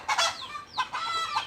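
A hen clucks in a few quick, loud bursts close by, with short pauses between the calls.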